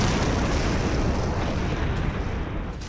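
A bomb explosion from an Iranian attack, captured in news footage, fills the sound with a loud, sustained, close roar and deep rumble that barely fades over a few seconds.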